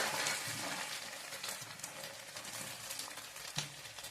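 Peas are stirred into fried potato and garlic in a pan, giving a soft, fairly quiet sizzle with gentle stirring scrapes and one slightly sharper knock near the end.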